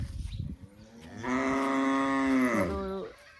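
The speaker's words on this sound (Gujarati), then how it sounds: "ઢોર બોલવા મળે છે" A single long cow moo on a farm, loud and close, rising then holding steady for over a second before fading, after brief rustling noise.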